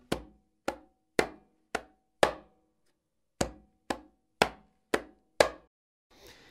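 Ten sharp conga strokes in a steady bachata pattern of palm, finger and flat-hand hits, five then a pause then five more, loud and close with dry slaps and no talking.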